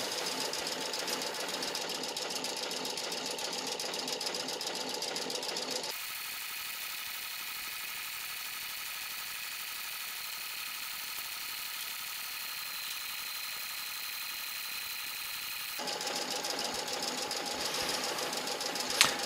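A sewing machine stitches partial circles onto fabric placemats using a circle-sewing ruler, humming steadily with a change in pitch partway through, then the same even running sound returning near the end.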